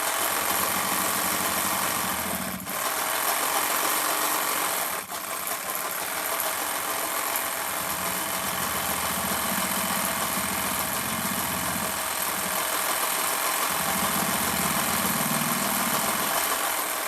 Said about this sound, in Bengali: এখানে আমি সেলাই করে নিচ্ছি এরকমভাবে আমি পুরোটা সেলাই করে নেব নিচে অবধি